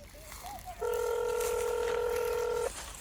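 A telephone dial tone cuts in abruptly and holds steady for nearly two seconds, loud and clear, after a brief faint voice-like warble; it stops sharply at the end.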